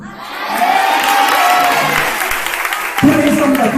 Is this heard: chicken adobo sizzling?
no